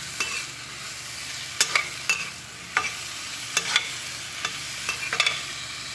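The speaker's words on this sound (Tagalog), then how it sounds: "So, yung sili, ganun din guys. Medyo i-frito natin bahagya." Chili peppers fry in hot oil for igado, a soft steady sizzle broken by about a dozen sharp utensil taps and scrapes against the pan at uneven intervals.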